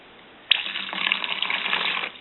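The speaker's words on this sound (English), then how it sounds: "And if your filter is dirty, you will see sediment in this water because it's being washed out of the element." Water flows out while a Micron Tec water filter is backflushed, a steady close gushing splash that starts abruptly and keeps running.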